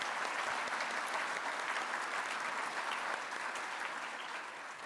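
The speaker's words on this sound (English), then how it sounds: "one more round of applause for everyone who serves the city of Boston" Sustained audience applause at a Boston government affairs forum, dense and steady throughout, gradually tapering slightly toward the end with no speech over it.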